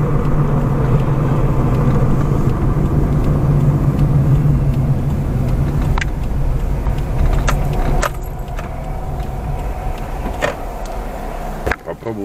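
Car interior with steady road rumble and engine drone as the taxi drives into a gas station, with keys jangling and small clicks and knocks, the noise easing slightly near the end.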